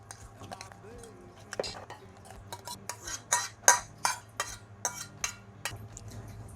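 A utensil mixes scallion oil in a bowl for Hainanese chicken rice, giving a run of light clinks and scraping taps against the dish, close and fairly quiet, with no talk during the stirring.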